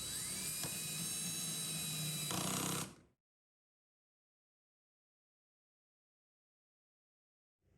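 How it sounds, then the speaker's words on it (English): A power driver runs screws into a wooden media stand built from curly koa, curly maple and cherry: a loud, steady motor whine for about three seconds, then it cuts off into silence. "And then I ran all the screws in for the final time."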